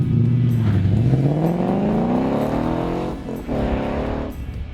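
A car fitted with a MagnaFlow Street Series exhaust revs up close by in a smooth rising sweep, drops back, then revs again in a second, shorter climb, loud and smooth throughout.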